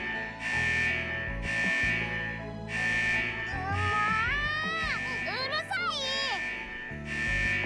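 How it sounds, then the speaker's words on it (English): A shrill alarm from a corridor in the video game Snowbreak blares in evenly spaced repeating bursts. Rising, warbling tones and other game sounds overlap it partway through. "a shrill alarm blared on repeat, echoing down the hallway"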